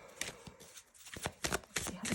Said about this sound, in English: let's see what it says about the cards if I shuffle them